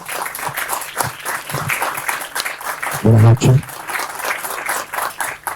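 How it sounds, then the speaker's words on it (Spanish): Audience applause for a guest at an evening event, a bright wash of clapping running throughout with a voice speaking a greeting over it and a brief loud burst partway through. "Un aplauso"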